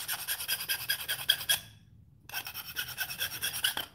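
Rasping file or deburring tool scraping along a cut aluminum edge to put a tiny chamfer on it, close and steady in repeated strokes, with a brief pause midway before the filing resumes.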